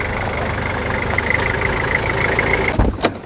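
A car weighed down with a heavy load of tiles creeps along at walking pace, its steady low engine rumble continuous and close, with a couple of clunks and rattles near the end.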